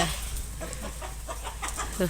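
Chickens at a rural home cluck in short, scattered calls that are fairly faint against a steady low hum, with people talking nearby.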